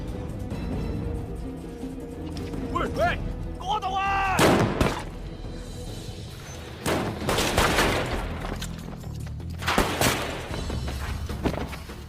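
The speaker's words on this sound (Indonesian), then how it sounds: "Dao Feng pun berhasil ditembak mati oleh Fang Jing" Gunfire in a movie shootout scene between police and gangsters, with sharp bursts and booms scattered among music and voices across the scene.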